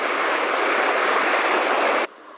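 Small waterfall on the Werse river near Münster, a steady broadband rush of falling water, close and continuous, cutting off abruptly near the end.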